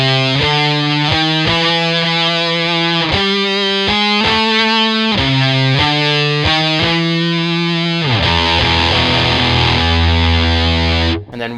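Electric guitar through heavy overdrive distortion, played without a whammy pedal, riffing with chugging, rhythmic chord stabs, loud and up close, before sliding into a sustained, swelling passage near the end.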